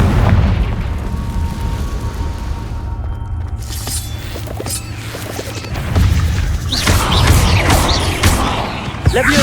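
Several loud Confringo fire-blast spell explosions go off in Hogwarts Legacy during a cave fight, with rumbling booms, crashes and crackling bursts that swell and fade, set against game music and combat noise.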